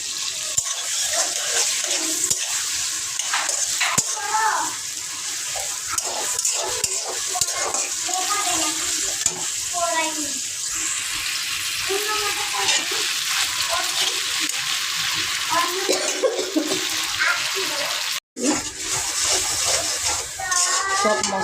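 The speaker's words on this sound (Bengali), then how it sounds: "এখন কষানো হচ্ছে, কষানো শেষের দিকে" Ginger-garlic paste and spices fry in a pan with a steady sizzle and intermittent scraping stirs, close and continuous, while a person talks over it.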